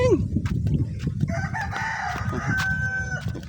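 Chickens nearby cluck and a rooster crows loudly and close, the crow rising and holding, with a voice talking briefly under them.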